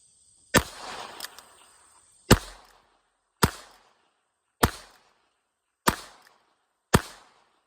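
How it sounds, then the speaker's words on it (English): Six sharp .22 rifle shots, five Auto Match rounds and one Remington, crack out one at a time at a steady pace about a second apart, each loud and close with a short ringing decay and no talk between. "I got 5 Auto Match, 1 Remington. See if we can tell when I shoot it."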